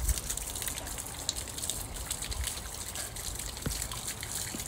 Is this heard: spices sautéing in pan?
no